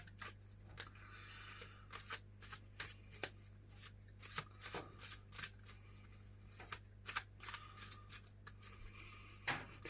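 Playing cards being shuffled, quiet repeated riffles and snaps in short irregular bursts over a faint hum.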